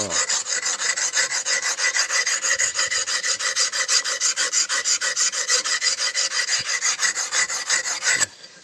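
Pruning shears being sharpened on a wet whetstone, with a steady, rapid back-and-forth rasping stroke that repeats evenly for several seconds and then stops abruptly, heard alone without talk.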